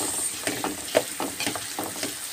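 Chopped tomatoes fry in a hot pan for a homemade macaroni sauce, a steady crackling sizzle broken by soft scraping stir strokes, close and moderately loud with no talking.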